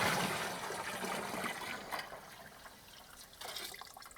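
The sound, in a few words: sugar syrup poured into water for jam mash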